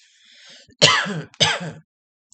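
Two harsh throat-clearing coughs in quick succession, close and loud, preceded by a brief faint breathy sound.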